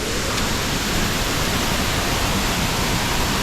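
A forest waterfall heard from its very top: a steady, dense roar of falling water filling the whole clip, close and loud, with no voices.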